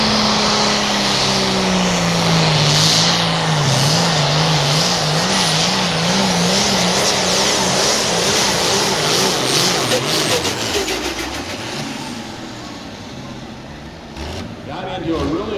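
International 66 Series tractor named Rambunctious pulling in the 8,500 lb class at Mound City, Missouri: a loud, continuous engine roar with a wavering, surging pitch that eases slightly near the end, with announcer talk over it.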